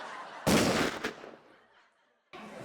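Gunshots go off in a Hindi TV comedy sketch: a loud, harsh blast, a second quick crack, then another burst after a short pause.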